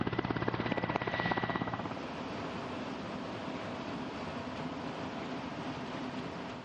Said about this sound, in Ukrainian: Це один з транспортно-ударних вертольотів операції об'єднаних сил.